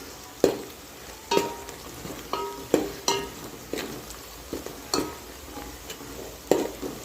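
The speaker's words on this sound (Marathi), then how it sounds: "आता आपण याच्यामध्ये जे सुके मसाले होते ते घालून घेऊया आणि मस्त असे मिक्स करून घ्यायचे आपल्याला" Dry spices being stirred into fried onion in a pan, soft sizzling under a regular series of sharp spoon scrapes and taps against the metal, about a dozen strokes.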